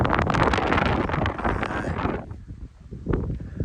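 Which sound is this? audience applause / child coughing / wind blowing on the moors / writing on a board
wind blowing on the moors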